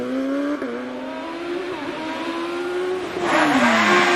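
Force TA 1600cc race car climbing the Prescott hill climb course, its engine note rising and falling steadily through gear changes, then swelling louder near the end as it draws closer.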